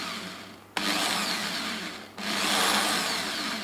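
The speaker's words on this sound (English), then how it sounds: "Now I need to drill a hole for it to sit into" Power drill boring a hole in a model tree base for tabletop wargaming terrain, two loud, steady whirring runs, each starting abruptly and separated by a short pause, close and alone.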